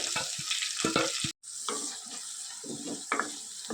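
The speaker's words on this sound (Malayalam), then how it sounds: "എണ്ണ ചൂടായിട്ടുണ്ട് അതിലോട്ട് ഞാൻ നമ്മൾ ചതച്ച് വെച്ചിരിക്കുന്ന ഇഞ്ചി ഉള്ളി കറിവേപ്പിലേക്ക് ഇട്ട് കൊടുക്കുന്നുണ്ട്" Crushed ginger, onion and curry leaves fry in hot coconut oil, giving a loud, steady sizzle with stirring scrapes throughout and a brief break in the middle.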